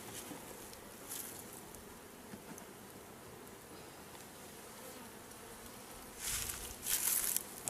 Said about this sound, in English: putting bees in the boxes.